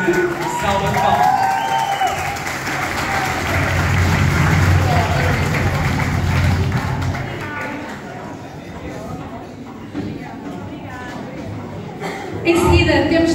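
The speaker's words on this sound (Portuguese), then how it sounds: "Salva de palmas." An audience claps and cheers at a samba school presentation featuring the featured dancers, a dense crowd roar that swells midway then eases, with talk over the applause.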